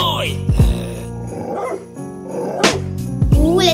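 A dog barks in a hip-hop song, with sharp barks and growly yips punching through a heavy beat and a rapping voice, loud and upfront.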